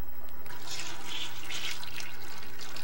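Water being siphoned out of a home aquarium, a soft steady trickle and gurgle of flowing water with faint splashing, fairly quiet and close, no voices.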